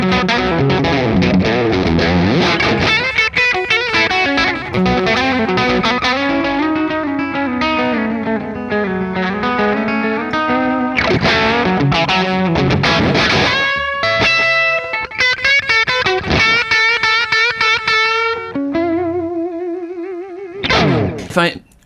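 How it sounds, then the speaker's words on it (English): An electric guitar is played with a mix of pick and fingerpicking through distortion and effects, with sustained bends, sliding phrases and choppy staccato notes over about twenty seconds, loud and close. "And now if I incorporate both techniques, the pick and the finger picking,"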